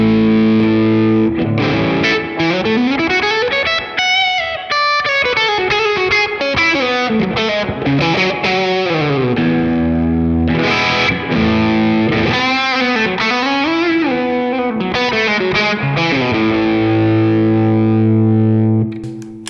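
A Fender Squier Classic Vibe Telecaster electric guitar with gain distortion plays chords and melodic phrases, loud and sustained throughout, with a held chord at the end and no talking.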